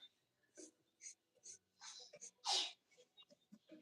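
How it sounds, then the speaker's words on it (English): A young daughter sitting on a bed indoors sneezes in a series of faint, quiet bursts, with one sharper and louder sneeze partway through among soft breathy sounds. "I keep saying bless you to my daughter because she keeps sneezing"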